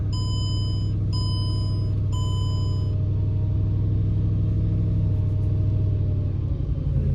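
A Mercedes E55 AMG engine idles steadily with a deep, even rumble, while several short electronic beeps sound over it near the start, with no talking.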